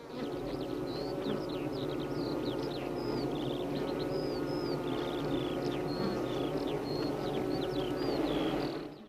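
A dense swarm of honeybees, some marked with yellow paint dots, buzzes steadily and loudly with an unbroken hum throughout, while faint high chirps flicker above it.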